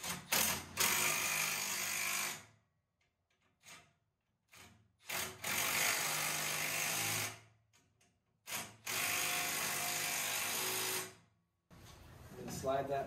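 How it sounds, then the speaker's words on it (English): Impact gun tightening bolts during assembly of a ProForm Cadence HIIT CS elliptical trainer, heard as four loud, close bursts of whirring rattle, each lasting one to three seconds, separated by near silence. "then you can use your impact gun to securely tighten it down."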